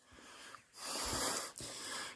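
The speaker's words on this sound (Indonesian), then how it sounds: "jalan nanjak kayak gini tuh, aduh, ampun-ampunan ngos-ngosan" A solo hiker climbing a steep trail on Mount Sumbing breathes heavily, with close, rasping wheezy breaths and a sharp inhale partway through.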